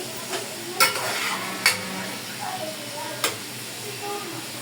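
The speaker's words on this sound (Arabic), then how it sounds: "ده تشويحه حلوه كده الاتنين بقى مع بعض" Chopped chicken liver and gizzards sautéing in a pan, a soft steady sizzle with occasional scraping stirs and clicks of a utensil, fairly close and moderate in volume.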